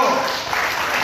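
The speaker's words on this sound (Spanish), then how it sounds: "Den un aplauso fuerte al Señor, hermano." Church congregation applauding during a Pentecostal service, a dense, steady wash of clapping that fills the whole second at close range.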